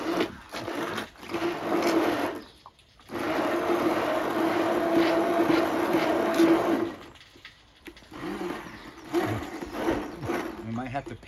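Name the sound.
hand mixer blending taco al pastor marinade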